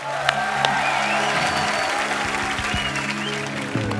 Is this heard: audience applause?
yes